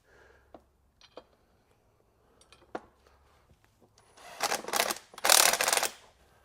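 A palm impact driver sinks screws into the metal plate of a shop stool: after a few quiet taps and clicks, two loud ratcheting bursts of hammering rattle up close, each lasting about a second.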